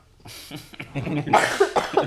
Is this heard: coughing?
yes